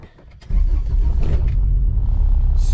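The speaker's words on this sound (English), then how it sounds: "Hopefully you guys can get an idea of how the exhaust sounds on the outside." A car with a B18C engine and a 3-inch Yonaka exhaust, a Honda EJ8, heard outside as its idle jumps into a loud, deep rumble that holds steady.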